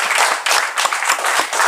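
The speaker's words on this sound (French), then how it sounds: "Applaudis, ya, ya, ya." A church congregation claps and applauds during worship, a loud, dense run of hand claps with rhythmic bursts throughout, voices mixed in.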